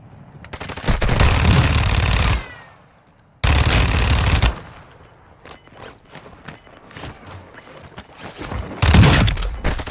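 Akimbo weapons fired in Warzone 2: long, loud, rapid volleys of close gunfire, a short pause, another burst, then scattered shots and mechanical clatter before a final burst.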